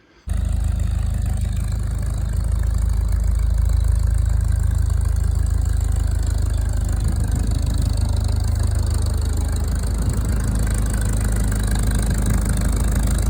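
A Farmall H tractor engine runs steadily at close range, a deep continuous rumble with no pauses and no voices.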